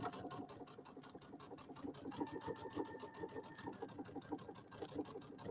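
A home sewing machine runs steadily, stitching an Easter settee pillow, its fast even needle rhythm close and continuous with a faint motor whine throughout.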